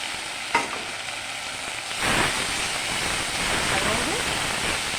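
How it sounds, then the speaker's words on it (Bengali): A paste of spring onion, garlic greens, ginger, green chilli, vinegar and ground cumin sautés in a pan with a steady, moderate hiss and sizzle, broken by one clear knock and a swelling burst of frying. "মশলাটা কষিয়ে নেব"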